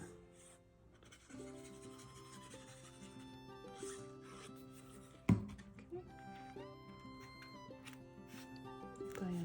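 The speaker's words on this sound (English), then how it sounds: "Burnish this down." Paper is burnished down onto a scrapbook album page with repeated soft rubbing strokes, quiet and close, plus one sharp tap partway through and faint background music.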